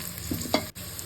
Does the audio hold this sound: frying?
yes